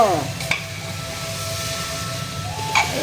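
Food cooking in a pan is stirred over a steady sizzle, with two sharp metallic scrapes of the utensil against the pan, one early and one near the end, and no talk.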